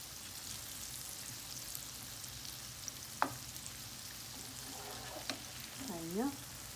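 Eggplant kebab frying in oil, a faint, steady sizzling hiss with a couple of sharp clinks and a brief voice near the end.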